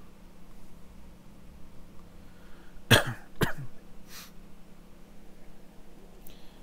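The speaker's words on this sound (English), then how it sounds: "I got to do a big cough here." A few sharp coughs burst out close to the mic in a quiet room beside a gaming PC, two strong hacks then a fainter one, over low steady hum.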